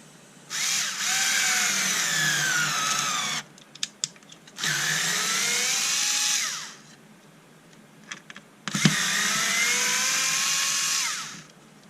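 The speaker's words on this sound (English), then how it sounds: "Same type of screw, straight into the same piece of wood. That's not too bad, that's screwing in quite well." A restored Bosch Ixo cordless screwdriver drives a screw into wood in three whirring bursts of about three seconds each, the motor pitch bending as it loads, with short pauses and small clicks between runs.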